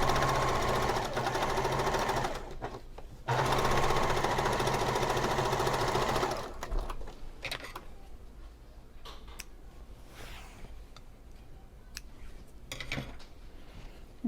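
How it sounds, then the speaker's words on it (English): A sewing machine runs loud and close as it top stitches a pillow sham with a longer 3.5 stitch, whirring with a rapid needle tick, pausing briefly, then stopping, leaving faint handling clicks and rustles. "I'm going to top stitch this"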